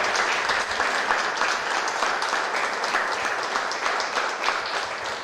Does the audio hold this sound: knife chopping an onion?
no